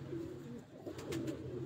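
Pigeons in a rooftop loft, kept as prized bloodline birds, give low, steady throaty coos that run continuously through the short stretch, with a few faint higher chirps and no talking.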